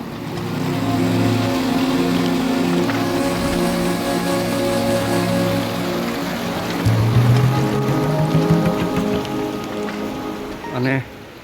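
Water overflowing from a dam in Kutch during heavy rain rushes and roars steadily and loudly, with a low mechanical drone underneath and faint voices.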